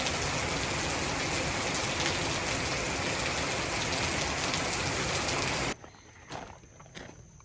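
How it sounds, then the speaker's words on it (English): Heavy rain pouring down on a farm, a dense steady hiss that cuts off abruptly near the end, leaving a few scattered drips and faint knocks. "we just had a rain go through and dropped a couple of inches on the farm"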